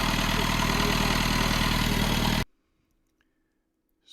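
A sailboat's diesel engine runs loud and steady at idle, then cuts off abruptly, leaving near silence with a faint trailing tick.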